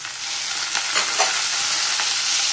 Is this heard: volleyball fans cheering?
no